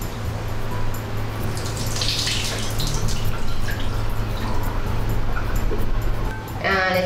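Water pours and splashes steadily for several seconds as it is drained off washed rice, then trickles away, with a low hum underneath.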